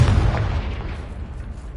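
A Confringo spell blast in a video game: a single loud, deep boom with a rumbling low-end body that decays over under two seconds.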